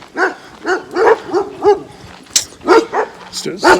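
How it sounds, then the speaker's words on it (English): Several dogs bark nearby in a quick series of sharp, loud barks and yips, heard up close during a walk past them. "There's dogs barking."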